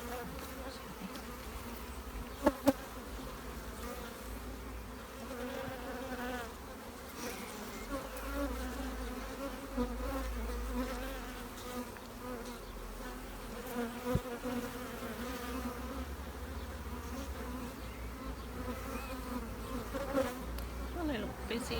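Honeybees foraging in a garden buzz steadily, a dense layered drone of many wings up close, with a few sharp knocks and faint background sounds.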